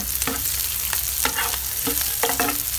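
Garlic sizzling and frying in a pan for a spinach, chicken breast and tofu dish, a steady close crackle broken by several short scraping stirs.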